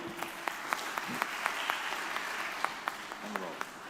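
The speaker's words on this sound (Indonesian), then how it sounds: "Tepuk tangan buat beliau" A small group claps for a few seconds, light scattered applause close by, with faint voices underneath.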